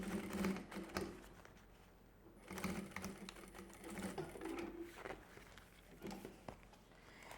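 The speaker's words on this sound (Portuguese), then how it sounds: "a gente vai costurar aqui pra prender esse outro lado também" A sewing machine stitches a small child's mini backpack in bursts, quiet and close, with uneven stretches of whirring and pauses and faint mechanical clicks.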